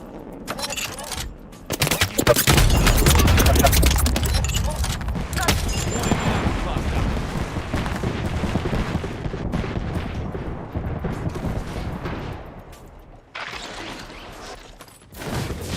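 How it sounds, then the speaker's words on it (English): Rapid gunfire in a Valorant match, Vision Strikers versus Cloud9, crackles in dense bursts for most of the stretch, loud and close, with voices talking over the shooting. "Shots fired."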